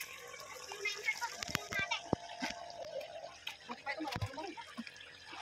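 Water splashes and sloshes as children kick while swimming in a pool, soft irregular splashes and drips close by, mixed with children's voices and an adult speaking.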